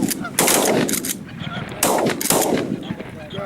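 Shotgun blasts ring out during a goose hunt, with two loud volleys of rapid shots amid honking geese close by.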